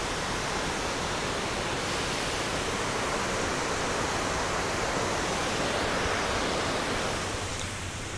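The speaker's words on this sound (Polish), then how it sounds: "Jak wszędzie tutaj płynie fala wody, taka ogromna moc" Victoria Falls thunders as a dense, steady, unbroken roar of falling water that fills the whole scene, with no voices.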